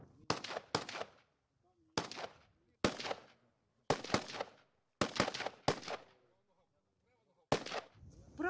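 Rifle gunfire at a volunteer combat shooting training session near the Belarus border, a series of sharp, loud reports in irregular clusters of single and double shots with short echoing tails and quiet gaps between them.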